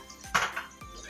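Fried ground pork is stirred in a metal pan, giving a few quiet scrapes and clanks of a utensil against the pan in short, separate strokes.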